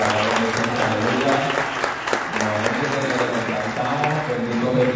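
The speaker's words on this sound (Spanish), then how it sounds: "yo quiero un fuerte aplauso para Noel." A church congregation at a night camp service applauds strongly, with continuous dense clapping throughout and a voice speaking over it.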